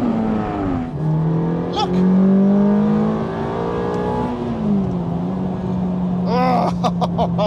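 A manual Ferrari F430 engine drones, then blips sharply on downshifts, its revs sweeping up and down loudly, with someone briefly speaking over it.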